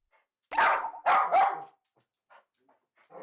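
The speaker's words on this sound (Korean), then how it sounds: "그렇게 짖어도 소용이 없어. 더 짖을 거라고." An excited dog barks three loud, sharp times in quick succession, followed by a few fainter yips and whimpers.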